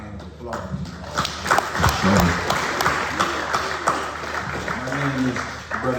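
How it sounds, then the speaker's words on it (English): A crowd claps and applauds steadily, scattered claps close by over a continuous roar, with a voice speaking over it. "Give our brother a round of applause."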